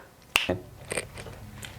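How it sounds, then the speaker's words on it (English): A single crisp finger snap, close and clear, followed by faint quiet room sounds. "With the matter of a snap your fingers to see what happens"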